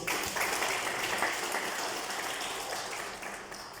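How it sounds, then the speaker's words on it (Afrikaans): Church congregation applauding a married couple, a steady, fairly faint patter of many hands clapping that slowly fades toward the end. "Kom ons klap vir hulle almal aan."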